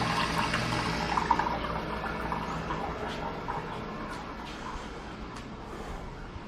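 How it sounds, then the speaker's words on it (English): Steady rush of shower water running in a New York City apartment bathroom, a continuous hiss that stays even and moderately loud throughout, with no talking. "Time to shower before work."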